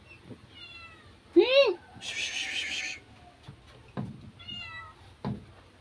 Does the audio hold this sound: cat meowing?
yes